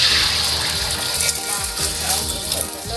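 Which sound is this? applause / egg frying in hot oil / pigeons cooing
egg frying in hot oil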